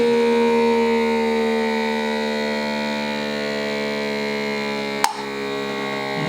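A small vacuum sealer pump drones steadily while pulling a vacuum on a jar, a buzzing, humming tone that slowly eases, then a sharp click sounds near the end as the hum continues.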